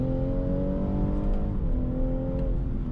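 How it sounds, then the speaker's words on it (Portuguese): A BMW M240i engine revs steadily and loudly up close, its pitch rising, dipping briefly, then climbing again. "Motor nem um pouco preguiçoso, gosta de girar."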